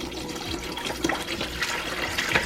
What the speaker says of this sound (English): So we're gonna pour that entire bottle.